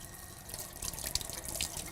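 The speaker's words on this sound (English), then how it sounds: "You want to turn on the water so that the water temperature is a comfortable temperature." Water runs steadily from a sink tap in a handwashing setting, a close, continuous splashing hiss without any talking.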